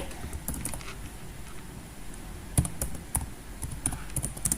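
Close computer keyboard typing while writing Python code, with irregular clusters of sharp key clicks and a few louder taps, no voices heard.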